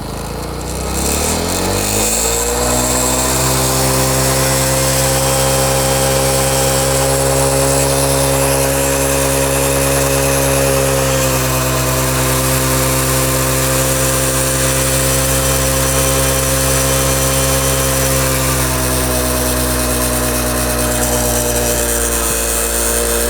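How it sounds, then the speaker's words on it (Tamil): A TVS XL 100 motorcycle engine starts and revs steadily higher, a loud continuous mechanical drone with rising pitch that holds near and strong throughout, with no talking. "வண்டியை ஸ்டார்ட் பண்ணிவிட்டு இப்போ வந்து கொஞ்சம் படிப்படியாக வந்து ஸ்பீடு ஏற்றலாம்."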